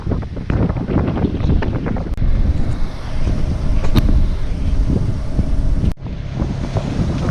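Strong wind roars across the microphone while a sailboat under a reefed main heads out of a harbor, waves washing and slapping against the hull in a loud, continuous rush.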